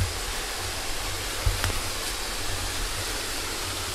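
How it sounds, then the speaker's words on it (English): A waterfall in the woods pours in a loud, steady broadband rush, close by and unbroken, with a faint click or two over the constant roar. "I'm just coming down to the waterfall, just gonna come check it out."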